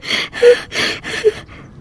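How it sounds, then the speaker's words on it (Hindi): A man in a Hindi cartoon clears his throat in four harsh, raspy bursts, close and loud, with short breathy gaps between them and no talking. "अपना गला साफ कर रहे हैं"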